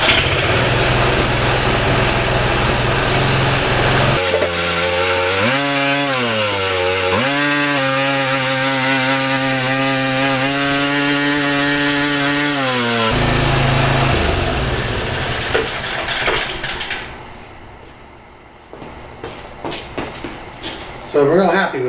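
An older Briggs & Stratton engine on a 52-year-old rototiller starts up and runs at half throttle, a loud steady buzzing drone with pitch shifts, then cuts out into quieter sounds.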